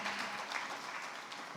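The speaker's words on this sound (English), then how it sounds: "A round of applause for the Honorable Minister," An audience at a technical and investment day session applauds the Honorable Minister, a dense wash of clapping that stays even and moderately loud for the whole stretch, with no speech heard.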